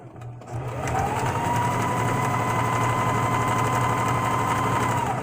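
Sewing machine run by a foot pedal, starting up after a brief pause and then humming steadily at a constant speed, close and clear, with no talking.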